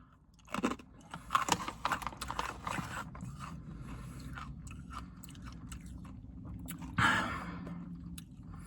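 Close, crisp crunching bursts of someone chewing brittle freeze-dried candy, loudest at the start and again near the end, with quieter munching between.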